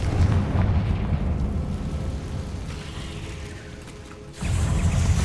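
Confringo explosive spell cast in the video game Hogwarts Legacy, a loud rumbling blast that holds for several seconds, fades, then booms again near the end.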